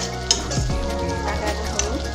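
Ginger garlic paste sizzling in a pan with browned onions, a loud close crackling fry with a stirring scrape and a couple of light metallic clinks.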